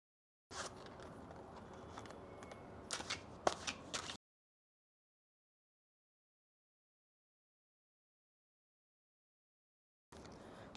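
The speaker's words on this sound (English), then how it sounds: "while we were shuffling this deck, a card did fall out" Papery riffling and soft clatter of cards being shuffled, steady for a few seconds with sharper flicks near the end, then silence before a brief burst resumes.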